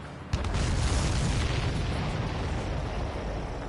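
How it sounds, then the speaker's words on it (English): An enemy supply ship blowing up in the Ace Combat 7 flight game: a sudden loud boom followed by a sustained rumbling roar that slowly fades. "Did you see that explosion? Looks like that's one of them down."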